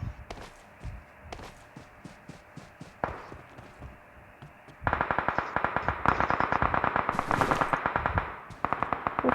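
Gunfire in the video game PUBG, starting as scattered distant shots with footsteps, then turning into loud, rapid, close bursts of automatic fire that continue to the end.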